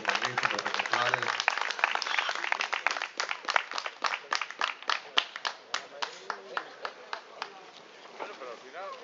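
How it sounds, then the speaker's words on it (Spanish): Scattered audience applause at a Spanish molosser dog show after the Neapolitan Mastiff best-of-breed award, sharp separate claps that start dense and thin out to a sparse, uneven patter, with some talk and wind noise at the start. "Un aplauso para estos magníficos ejemplares."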